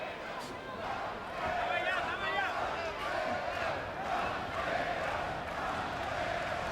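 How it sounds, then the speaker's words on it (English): Boxing arena crowd chanting the fighter's nickname "Pantera" during a 2007 bout between Edison Miranda and Allan Green, a steady roar of many voices with rhythmic chant patterns throughout. "Crowd is chanting Pantera, Pantera."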